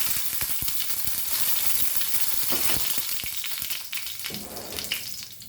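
Cumin seeds, mustard seeds and curry leaves sizzle in hot oil for a Goan okra dish, a loud steady frying crackle with scattered pops of spluttering seeds, close up and without talk.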